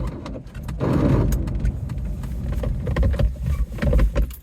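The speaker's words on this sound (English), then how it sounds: "we're gonna go ahead and start the car up and go for our test drive" A 1963 Porsche 356B's engine cranking and catching into a rough, low idle, close by and continuous with uneven chugging pulses, with clicks and knocks from the car throughout.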